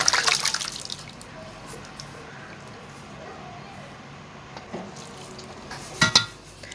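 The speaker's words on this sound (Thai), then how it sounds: "และเทน้ำทิ้งค่ะ" Rinse water tipped off sticky rice in a pot. A brief splashing pour opens, a long stretch of near quiet follows, and a sharp clatter of the pot sounds near the end, with no talking.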